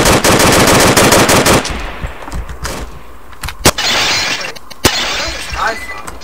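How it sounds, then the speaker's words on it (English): Gunfire in the Roblox game Tactical Assault, a loud rapid machine-gun burst followed by scattered sharp single shots and glassy crashes, close and dominant. "Oh Jesus, there's bullets."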